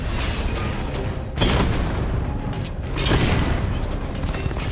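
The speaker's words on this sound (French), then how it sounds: "Explosion imminente, Batman." Dense, roaring explosion noise from the Batman Arkham Knight video game, with rumbling blasts and crackling debris filling every moment, a second heavy boom swelling midway, loud and continuous with no pause.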